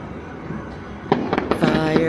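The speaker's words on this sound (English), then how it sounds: "Fireworks." Fireworks bursting in the night sky during a March display, a few sharp cracks and pops arriving about halfway through, following a quieter stretch of background murmur.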